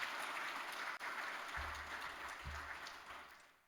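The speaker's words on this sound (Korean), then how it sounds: "박수로 축하해 주시기 바랍니다." Congregation applause in a church during a confirmation service, a soft, diffuse round of clapping from a large room that gradually fades, with a few low thumps underneath.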